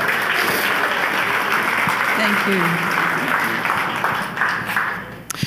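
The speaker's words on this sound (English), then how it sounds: "So let's give them a round of applause." A church congregation at a Tuesday service claps in a warm, sustained round of applause that slowly thins out, with a voice speaking briefly as it fades.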